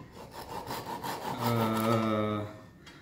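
A small handsaw cuts wood in a workshop, the kind used for trimming dowel ends. Quick, close rasping strokes run for about three seconds, alone with no voices.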